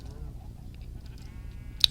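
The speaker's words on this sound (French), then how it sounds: "Et derrière cette maison nous avons des moutons ici là." Sheep bleats from the game Minecraft, on a SkyBlock server running version 1.7/1.8: faint, short wavering bleats over a low background murmur, ending in a sharp little click.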